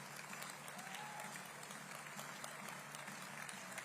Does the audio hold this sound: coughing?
no